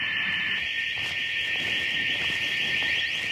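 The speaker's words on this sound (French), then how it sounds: "L'alarme déclenchée, les suspects sont peut-être là." Intruder alarm ringing at the open door of a business warehouse, a loud, steady, unbroken electronic tone holding at one pitch throughout.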